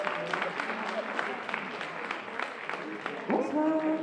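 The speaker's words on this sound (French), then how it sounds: "applaudissements, s'il vous plaît." An audience at a regional French song contest applauds, moderate clapping with distinct individual claps, and a voice talks over it near the end.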